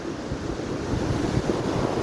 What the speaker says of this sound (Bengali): ভোরের সমুদ্র, এখনও সূর্য ওঠেনি।